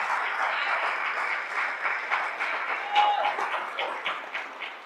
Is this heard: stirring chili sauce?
no